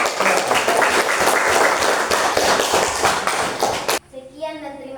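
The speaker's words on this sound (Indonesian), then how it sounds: "kita memberikan tepuk tangan buat kelompok" Classroom applause for a student group after a presentation: dense clapping from a room of people for about four seconds, cutting off abruptly as a voice begins speaking.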